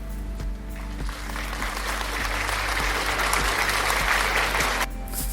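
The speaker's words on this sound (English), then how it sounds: "give yourself a big round of applause" A burst of crowd applause plays over a steady low hum, the clapping swelling and holding evenly for several seconds before cutting off abruptly near the end.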